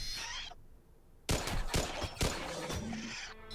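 Bursts of gunfire in the colony game RimWorld crack out in a quick irregular volley after a short quiet gap, several sharp shots close together.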